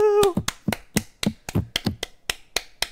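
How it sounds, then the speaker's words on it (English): A podcast host claps close to the microphone, a run of about ten sharp, evenly spaced smacks, loud and near, following a brief high tone at the start, with no talking over them. "I don't know if you can hear me clapping"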